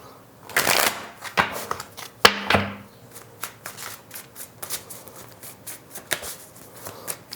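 Tarot cards are shuffled for a reading in a series of quick, crisp riffling bursts and sharp slaps, close and fairly loud, with brief pauses between them and some talk.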